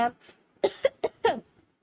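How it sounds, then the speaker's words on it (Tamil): A short burst of coughing, three or four harsh coughs in quick succession, close to the microphone. "கேப் விடாம இருமல் ரொம்ப வந்துச்சு"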